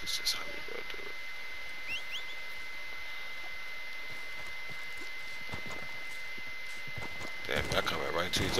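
Soft, steady clip-clop of a horse's hooves in a video game runs through a constant background hum, with brief louder clatter near the end; someone talks over it.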